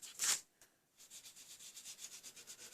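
Soft, rhythmic scratchy rubbing close by as colour is rubbed onto paper, a brief louder swipe first, then a steady back-and-forth pattern of faint strokes.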